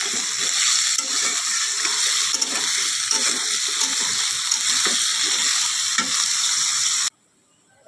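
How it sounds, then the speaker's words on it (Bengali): Potatoes frying with other ingredients for a Bengali dhoka dish, a steady loud sizzle with scraping stir strokes throughout that cuts off abruptly near the end. "এগুলো সব একসাথে একটু ভেজে নেব তার মধ্যে দিয়ে দেব আলু"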